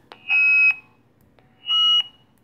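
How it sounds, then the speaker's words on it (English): Two short electronic beeps from a Puxing PX-888K handheld radio, steady high tones about a second apart, clear against a quiet background. "So it beeps."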